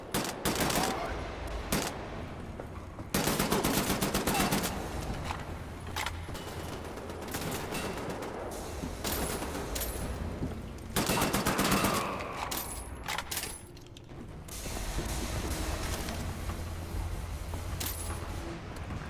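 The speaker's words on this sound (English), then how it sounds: "there's one more cannon further up still firing at our birds" Cannon fire in the shooter game Wolfenstein: The New Order, a castle cannon shooting at aircraft near a cliff wall, heard as repeated booming gunfire bursts amid continuous battle noise at moderate volume.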